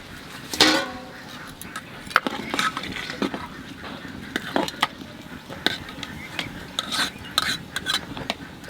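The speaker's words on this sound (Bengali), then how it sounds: "তুমি কি হাতা দিয়ে নাড়ছো?" A ladle stirring khichuri made with Gobindobhog rice, cauliflower and peas in a pot, giving repeated scraping knocks and clinks over a rough, continuous background of cooking noise.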